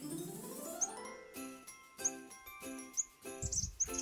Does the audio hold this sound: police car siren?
no